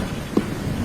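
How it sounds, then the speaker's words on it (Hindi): Heavy rain pours steadily over a forest at night, a close, continuous hiss with a brief low rumble partway through. "अचानक से जंगल में तेज बारिश शुरू हो जाती है"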